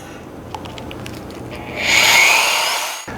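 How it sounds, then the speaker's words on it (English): A steady half-inch electric drill whirs with a Jiffy paddle mixer churning thick epoxy primer, its pitch and loudness rising midway, then cutting off abruptly near the end. "I'm going to take my 1/2-inch drill and my Jiffy mixer, and I'm going to mix each product individually first."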